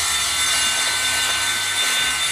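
A hand saw cuts an 8 mm or 4 mm acrylic sheet, producing a loud, continuous harsh rasping grind that holds steady throughout with no speech.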